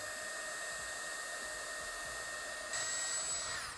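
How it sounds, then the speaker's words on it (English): A heat gun blows steadily while shrinking grips onto the handles of Cobra pliers, a close, even hiss and whine that steps up slightly in intensity toward the end. "Get your heat gun."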